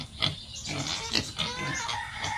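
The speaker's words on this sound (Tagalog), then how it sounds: "Yan na lang po yung natira sa aking baboy." Native pigs on a farm that lost most of its herd to African swine fever grunt and oink close by in a steady run of rough snorts, with no talking over them.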